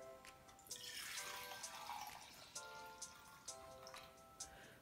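Homemade rose toner pours from a small sprayer bottle into another container, a continuous liquid trickle with scattered drips and splashes, close and fairly faint, no talking.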